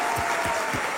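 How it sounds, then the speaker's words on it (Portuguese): A church congregation claps for the Lord in a steady, continuous round of applause, moderately loud and even across the short moment. "Pode dar esse aplauso para o Senhor?"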